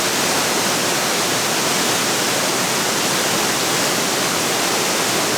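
Steady, dense roar of a waterfall heard from a nearby viewing platform, a continuous broadband rush with no breaks and no voices.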